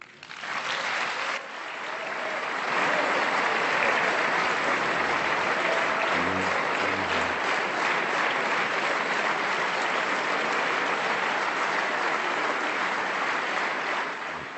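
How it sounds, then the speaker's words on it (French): Members of the French National Assembly stand to applaud Laurent Fabius: dense, sustained clapping from a large chamber that swells after the first second and stays loud and steady to the end. "Vous avez applaudi."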